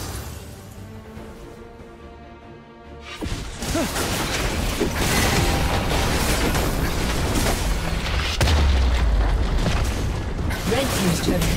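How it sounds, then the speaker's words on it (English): In the League of Legends video game, a turret collapses with a loud crashing boom and rumbling debris after a quieter stretch of game sounds, followed by continued loud impacts and effects. "Red team's turret has been destroyed."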